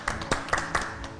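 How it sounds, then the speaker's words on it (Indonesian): A few scattered hand claps from a talk-show studio audience welcoming a guest, about four sharp claps in just over a second, close and fairly light over a faint background hum. "tepuk tangan dong"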